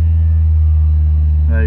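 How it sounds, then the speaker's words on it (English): A car engine with a stock ECU and advanced timing runs on pure hydrogen gas at a steady 2000 RPM, a loud, even low hum close up, with a voice starting in at the end. "this is it at running on pure hydrogen gas"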